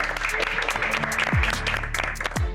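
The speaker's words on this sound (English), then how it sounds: "can we all give him a huge round of applause for joining us?" Studio audience applause on a South African cooking competition show, loud and continuous, with a few low sweeping tones rising beneath the clapping.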